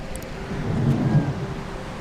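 Steady rain falls under a low, continuous rumble of thunder in the video game Retropolis 2, a dense wash of sound without any break.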